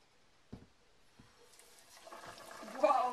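A piece of battered fish is dropped into hot oil, a couple of soft knocks followed by a rising, crackling sizzle that grows louder and denser as the frying takes hold.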